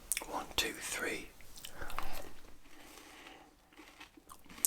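Close, crunchy bites and sticky chewing of a Lion Bar, a chocolate, caramel and wafer bar, with soft whispered talk mixed in.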